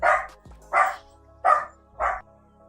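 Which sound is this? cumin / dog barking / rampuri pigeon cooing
dog barking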